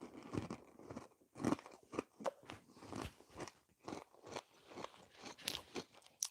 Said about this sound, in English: Bit of chewing ASMR.